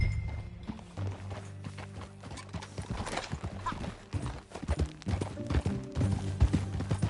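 Steady clip-clop of horse hooves at a trotting pace in Red Dead Redemption 2, close and continuous, with an occasional snort over a low ambient hum.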